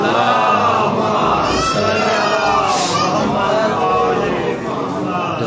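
Congregation at a Shia majlis in an imambargah chanting religious slogans such as takbir and Haidari, a loud, dense mass of voices roaring together in sustained waves of collective shouting throughout.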